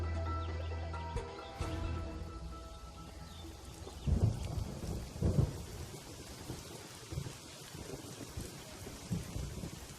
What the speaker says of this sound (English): Here in the rainforest, it can rain really hard.